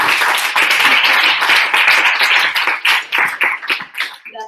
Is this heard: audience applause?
yes